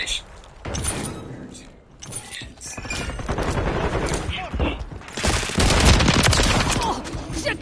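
Heavy sustained gunfire in Call of Duty MW3, loud overlapping bursts and booms that build toward the end, with voices talking over the shooting.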